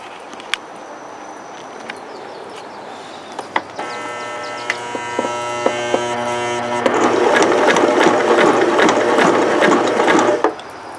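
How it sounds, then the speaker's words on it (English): Mechanical clattering of a sewing machine stitching, starting slow and speeding up, growing louder and busier as it climbs up a hard bump of 9 layers of jeans fabric. "listen to the sound of the sewing machine as it sews and climbs up the 9 layers of fabric"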